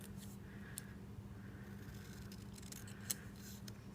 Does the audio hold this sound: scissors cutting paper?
yes